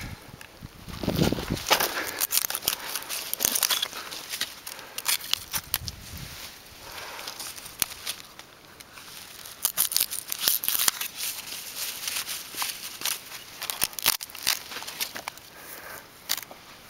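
A Buck Hoodlum knife cuts and splits a stick into small pieces outdoors. Close, irregular cracks, scrapes and snaps of wood come in bursts, with no talking.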